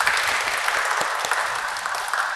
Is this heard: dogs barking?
no